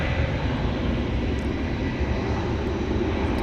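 A UPS cargo plane bound for Louisville, at DFW Airport at night, produces a steady, broad jet engine roar that holds at constant loudness throughout, with no voices over it.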